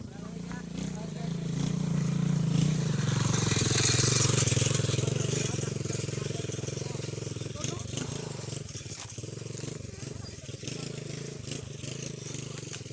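A motorcycle engine revs up and then settles into a steady running hum close by, with people talking over it during a family road trip.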